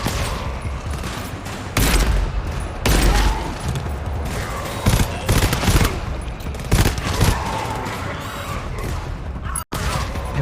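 Video game gunfire comes in loud bursts of rapid automatic fire with booms, running almost continuously and filling the whole stretch; there is no talking.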